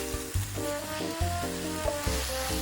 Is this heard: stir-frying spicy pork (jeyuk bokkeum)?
yes